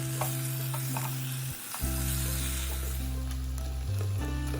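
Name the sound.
boiled boneless chicken pieces frying in masala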